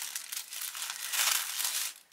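Paper mail packaging ripped and crinkled open by hand, a short, close burst of crisp tearing and rustling that swells briefly before stopping, with no talk.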